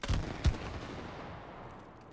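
Two quick gunshots fire in the video game It Takes Two, a pair of close, punchy pops followed by a fading reverberant tail with no talking.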